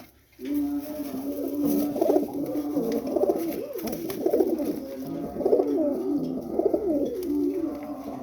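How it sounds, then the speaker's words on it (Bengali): Large racing pigeons, a male and female from a farm loft, coo close by in repeated soft throaty rolls, with light fluttering and shuffling in between. "দুইটাই ওনার খামারের কবুতর সম্ভবত।"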